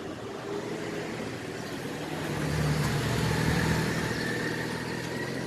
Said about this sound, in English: That's cool that they have motorcycles.